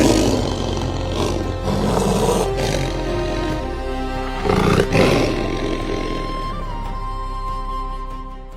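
A lion roars at dawn in the Masai Mara, a long, deep, rumbling series of loud calls swelling and fading over several seconds.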